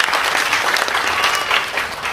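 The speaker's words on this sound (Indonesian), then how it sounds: "tepuk tangan yang keras buat Tuhan" A church congregation claps loudly and steadily during a sermon service, a continuous wash of hands with no clear talk on top.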